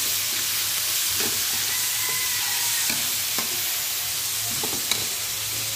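Chopped tomatoes sizzle and fry in a hot pan, a steady dense hiss broken by a few soft scrapes and clicks of stirring, close and fairly loud throughout.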